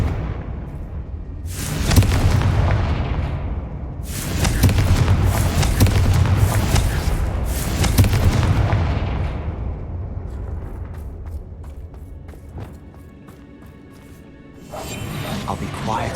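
Fiery Confringo spell blasts in the Hogwarts Legacy video game, several loud booming bursts in quick succession with whooshing tails, followed by a quieter stretch and a final blast rising at the end; a voice is heard in places.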